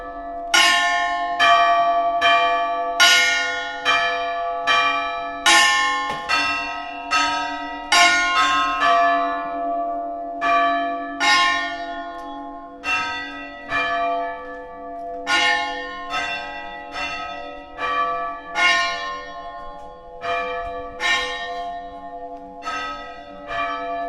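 A small village church's bells toll at noon near a farmhouse, loud and close, with a long run of steady, ringing strokes that overlap and decay into a sustained hum.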